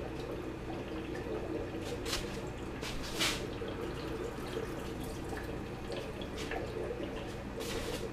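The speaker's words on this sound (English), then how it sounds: "Rinse them in the sink" Water from a sink tap runs and drips steadily while rinsing hatched brine shrimp eggs, a faint continuous splash with scattered louder drips and splashes, no talking.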